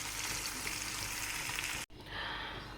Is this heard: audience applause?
no